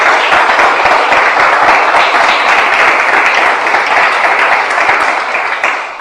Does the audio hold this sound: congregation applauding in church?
yes